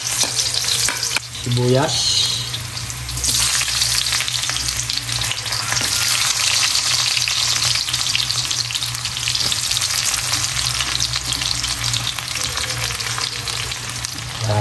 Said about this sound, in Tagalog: Yan, lagay na natin ng bawang. Bawang. Tapos halo-haloin lang natin yan.